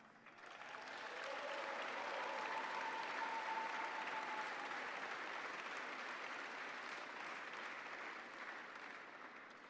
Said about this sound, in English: Many people, millions, cheering crowd